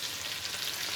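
Meat frying in a pan for khabsa, a steady close hiss of sizzling fat that holds evenly through the brief moment with no voices.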